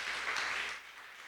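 A church assembly audience gives Pastor Kathy a round of applause, a soft, diffuse wash of clapping that fades toward the end.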